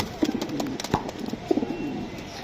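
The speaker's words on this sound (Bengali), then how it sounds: "মাদি যে ডাকতে আছে সমস্যা নেই, মাদি ডিমের উপরে আছে" A female pigeon cooing while sitting on her eggs, with two soft bursts of low cooing notes around a sharp click, close and fairly quiet.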